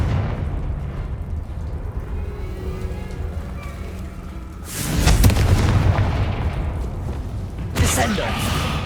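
Confringo fire spell from the Hogwarts Legacy video game bursting with a deep booming explosion midway, followed by a rumbling tail and a second, shorter blast near the end, after a quieter ambient stretch.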